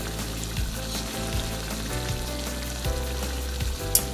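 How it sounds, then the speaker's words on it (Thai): Snakehead fish stir-frying with red curry paste in a hot pan, a steady loud sizzle with occasional stirring scrapes and clinks, no voices. "ตอนนี้หอมผัดพริกแกงหอมเครื่องแกง"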